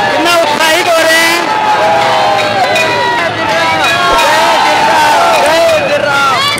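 A huge festival crowd at a Hanuman Jayanti celebration in Jaipur fills the air with dense, unbroken hubbub: many voices shouting and whooping over one another, loud and close throughout.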